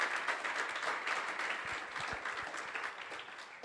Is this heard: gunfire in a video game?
no